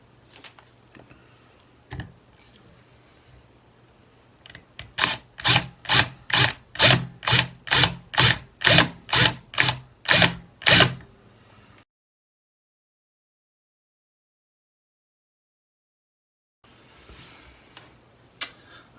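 Drilling the head off a rivet on a Matchbox Land Rover Safari No 12 model: about a dozen evenly spaced rasping bursts, close and fairly loud, after quieter handling noise, then silence and faint rustle at the end.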